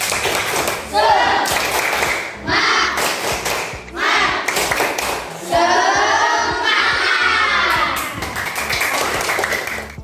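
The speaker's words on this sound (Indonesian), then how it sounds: "kita tepuk semangat dulu" A classroom of students performs a tepuk semangat spirit chant, clapping in rhythmic bursts alongside their voices, with short pauses between the loud, busy sections.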